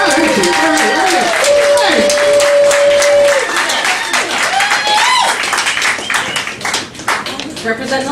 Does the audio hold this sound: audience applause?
yes